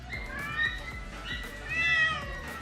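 A small kitten meows in several thin, high, drawn-out cries close by, over a low steady background hum with no talk.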